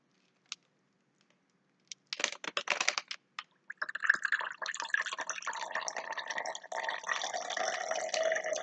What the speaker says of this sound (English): I'm going to pour the super cooled water